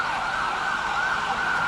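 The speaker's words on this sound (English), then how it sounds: "let this ambulance pass" An ambulance siren wails steadily with a rising and falling tone, loud and close as the vehicle passes, with faint road rumble beneath it.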